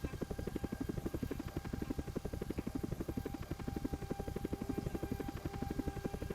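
Steady rhythmic helicopter rotor thump, loud and close, a continuous rapid chop with engine drone and no voices.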